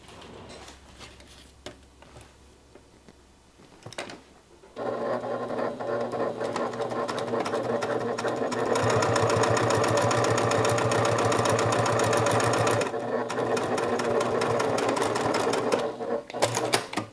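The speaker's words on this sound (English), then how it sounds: "we are going to stitch using a 1/4 inch seam allowance" Sewing machine stitching a 1/4 inch seam while making a bag, quiet handling noises at first, then a steady loud continuous run from about five seconds to the end with one short pause.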